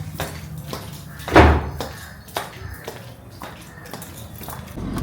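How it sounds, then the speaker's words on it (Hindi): A door shuts with a single clear thud early on, followed by quieter bumps and handling noises in a room. "दरवाज़ा बंद कर ले, ये बंद ही रखियो, खुला मत रखियो।"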